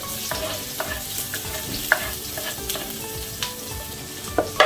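Ingredients hit a hot pan for an Indian dish and fry with a soft, steady sizzle, while a utensil scrapes and clicks against the pan in irregular stirring strokes, fairly close.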